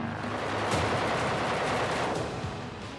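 Rapid automatic fire from an AK-203 assault rifle, the latest lightweight AK-series weapon rated at about 600 rounds per minute, forms a loud, continuous burst rattling steadily for three seconds with no voices.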